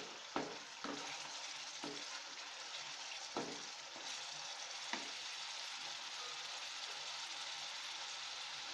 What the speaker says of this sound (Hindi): ये आसपास तेल छूटने लगा है। हमारी ग्रेवी एकदम पक गई है।